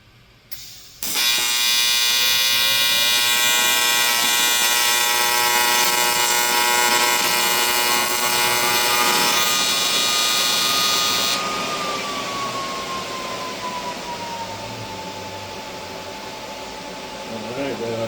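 A TIG welder runs steadily on an aluminum wheel while a crack is repaired, its broad buzzing arc holding loud and close for about ten seconds before it drops and a softer tone carries on.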